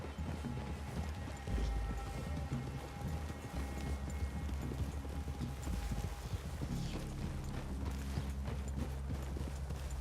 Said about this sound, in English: I'd leave your horses the other side of this clearing.